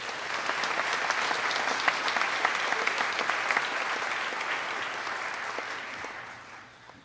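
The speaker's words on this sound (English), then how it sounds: "Let's give them all a round of applause." A congregation at a Rosh Hashanah morning service breaks into dense, sustained applause that holds steady for several seconds before fading out.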